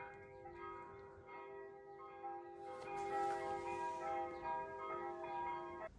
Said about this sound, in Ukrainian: Так гарно тут дзвони дзвонять.